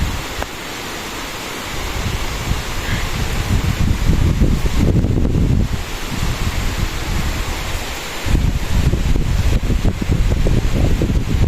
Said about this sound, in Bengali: ঝুম বৃষ্টি হচ্ছে, অনেক বৃষ্টি হচ্ছে।